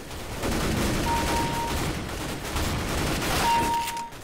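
Mag 7 shotgun blasts in the video game CS:GO come as a couple of loud, close bursts spaced a few seconds apart amid busy game noise and brief electronic tones.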